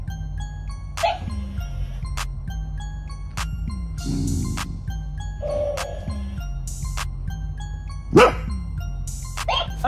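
A dog barks angrily at a toy, giving sharp separate barks and yips over a steady background of chiming, tinkling toy sounds and music, close and fairly loud.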